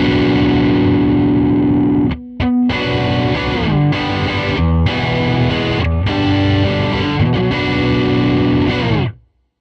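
Electric guitar driven through a Strymon Sunset dual overdrive pedal with the tone rolled back: loud, close, saturated chords strummed steadily, with a brief choked pause near the start and a final chord cut off at the end. Nobody speaks.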